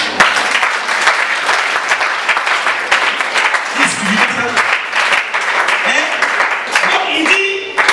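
A church congregation claps and applauds at a Sunday worship service, producing a dense, loud, steady wash of hand claps throughout, with voices calling out beneath it.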